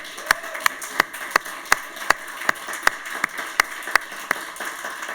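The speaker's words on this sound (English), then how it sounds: "Let's once again give a big round of applause to all our shortlisted initiatives" Scattered clapping rises at a road safety awards ceremony, a modest crowd giving sharp, distinct hand claps in an irregular rhythm, fairly close and steady throughout.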